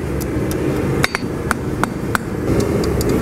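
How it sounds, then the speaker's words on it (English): A hand hammer strikes hot metal during forging, eight or so sharp ringing blows at an uneven pace, loud and close, with no talk. "You know what I was saying about being out of practice with a hand hammer?"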